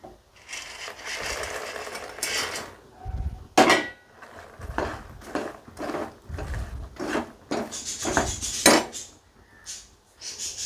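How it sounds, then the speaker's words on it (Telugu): Puffed lotus seeds (phool makhana) tumbling into sugar syrup in a pan, heard as a series of close, irregular clatters, scrapes and knocks against the metal, with short bursts and pauses between them. "ఇప్పుడు మనం పూల్ మకానా వేసుకుందాం."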